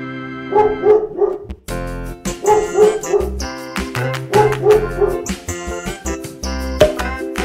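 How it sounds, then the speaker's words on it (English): A cartoon white dog barks in quick bursts of three, repeated several times over a loud, bouncy children's music track. "white dog"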